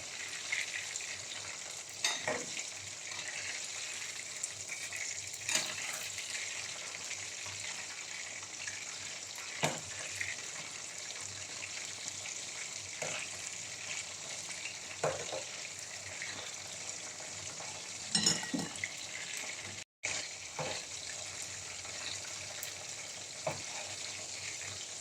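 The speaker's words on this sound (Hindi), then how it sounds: "अब इसी तरह 3 से 4 मिनट दूसरी साइड भी चिकन को फ्राई करेंगे।" Chicken pieces frying in hot oil in a pan for a restaurant-style hot garlic chicken dish, a steady close sizzle running throughout with occasional sharper crackles and spits.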